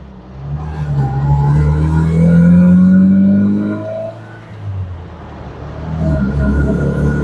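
An old Jeep Comanche MJ pickup, driven for the first time in years, pulls away with its engine rising in pitch as it accelerates, eases off, then builds again, close and loud.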